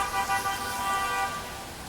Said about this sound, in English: That guy's honking.